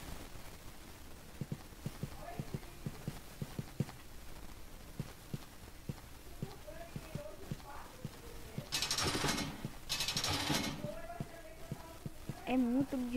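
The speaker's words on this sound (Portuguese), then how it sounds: "Quando a gente anda, a gente ouve o nosso passo" A player's footsteps in the Roblox Backrooms game tap along in a steady, evenly spaced rhythm, fairly quiet, interrupted midway by two loud bursts of hissing noise.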